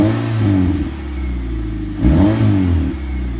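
A Mazda MX-5 NC fitted with a Cobra Sport Road back box revs loudly, its engine note climbing in pitch, dropping briefly, then surging again in a second rev; no talk.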